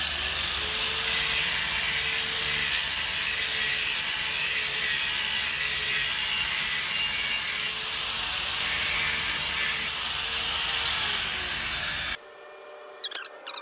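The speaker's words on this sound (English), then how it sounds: "I am still grinding, but it's slowly eating away" A power grinder works steadily on a steel railroad-track anvil, a loud continuous abrasive whine that dips briefly, holds for about twelve seconds, then cuts off abruptly.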